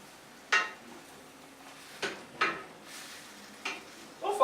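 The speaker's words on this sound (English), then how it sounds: "And then you have to stir while you simmer." Afang soup simmering in a pot in a Nigerian kitchen while it is stirred, with a handful of separate close scraping and knocking strokes against quiet background hiss.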